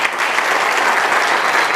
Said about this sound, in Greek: Θέλω και ένα θυμό χειροκρότημα για την ορχήστρα μας